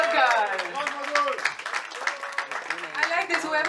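Guests clap for film director Madhur Bhandarkar at a magazine launch celebration, scattered indoor applause lasting several seconds beneath a voice speaking over it.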